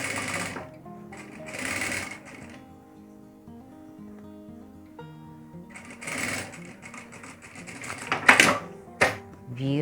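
A sewing machine stitches elastic onto a fabric face mask in several quick rattling bursts separated by pauses, close and clear, with a few sharper clacks near the end.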